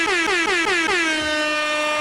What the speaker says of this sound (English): Where they got that air horn at?